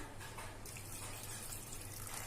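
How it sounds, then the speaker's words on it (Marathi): Hot water is poured from a plate into a pot of simmering village-style mutton rassa, making a short, steady splashing gush close by with no talk. "आता हे ताटातलं जे गरम पाणी आहे ते आपण त्याच्यात ओतून घेऊ."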